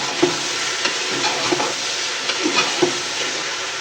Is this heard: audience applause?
no